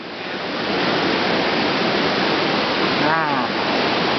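A roadside waterfall in Hala-Bala, Thailand, roars in a steady, dense rush close by. A voice briefly speaks under the roar near the end.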